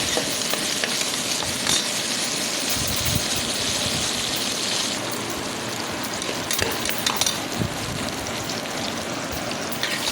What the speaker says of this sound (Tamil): போட்டு நல்லா பொன்னரமாக வர்ற வரைக்கும் வதக்கணும் நல்லா வதக்கிடுவோம்